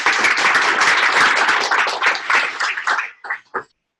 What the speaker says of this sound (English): another round of applause for Max